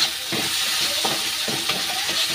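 Spices fry in a hot pan while a Mughlai paratha is being made, giving a continuous bright sizzle broken by several short scraping stirs, close and fairly loud with no talking.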